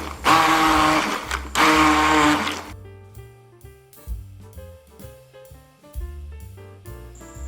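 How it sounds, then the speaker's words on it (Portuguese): A blender whirs loudly in two short bursts while mixing breakfast recipe ingredients, then stops, and soft kitchen clinks and bumps follow. "Eu vou bater aqui os ingredientes"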